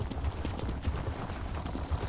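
Horse hooves clip-clopping in a steady rhythm while riding along a path in The Elder Scrolls Online, moderately loud and continuous with game ambience, no talk.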